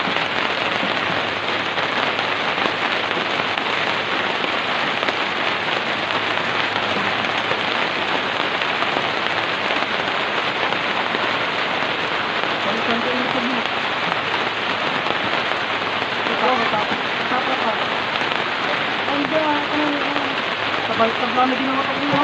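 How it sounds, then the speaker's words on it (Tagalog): Heavy rain pours down steadily, a dense, continuous hiss of drops striking surfaces throughout, with no letup. "Ulan na naman."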